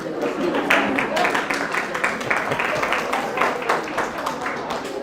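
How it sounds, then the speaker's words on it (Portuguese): An audience at a science and reading event applauds, a continuous patter of many hands clapping at moderate distance that swells slightly and then settles, sustained for several seconds. "Agora palmas para mim, não é?"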